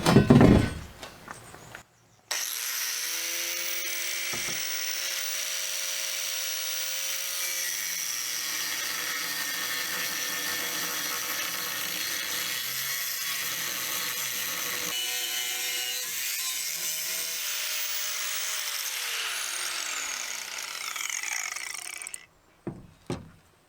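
A power saw cuts wooden bunk boards for a skiff trailer, giving one long, steady, loud whine through the wood for about twenty seconds, with brief clatter before it starts and after it stops.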